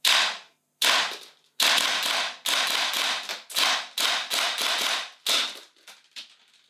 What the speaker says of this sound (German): Kurz und knackige Schussfolgen, der Abzug richtig gut.